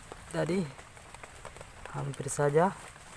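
Heavy rain with strong wind at a campsite, a constant light patter and hiss of rain under two short bursts of close voices.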